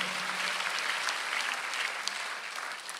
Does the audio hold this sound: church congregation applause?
yes